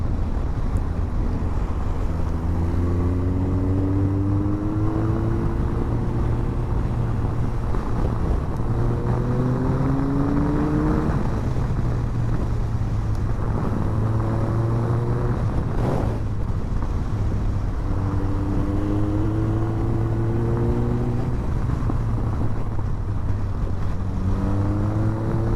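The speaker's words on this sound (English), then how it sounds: "This kind of motorcycle riding for me is like doing yoga." A KTM 390 and a Suzuki GSF1250 Bandit ride a canyon road, their engines droning steadily as revs climb and drop through gear changes, heavily buffeted by constant wind noise.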